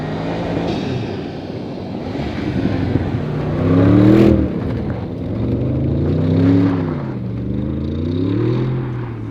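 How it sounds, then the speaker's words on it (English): Audi RS 6 Avant engine revving outside, several swelling revs rising and falling with a rough, rumbling exhaust note, heard loud and close with no talk; the overrun pops and cracks are not clearly picked out. "You do get some pops and cracks on the overrun"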